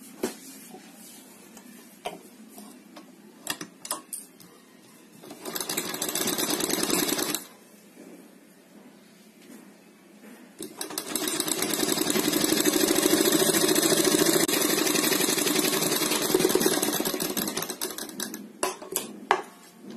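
A sewing machine stitches a folded fabric strip for a neckline, running in two loud, sustained bursts of rapid mechanical chatter separated by a pause, with scattered handling clicks and taps between runs.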